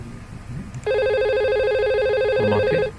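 A VoIP desk phone rings with an incoming call to extension 1002: a single sustained electronic ringtone that starts abruptly after a short pause and continues loud and close for about two seconds, with faint background noise.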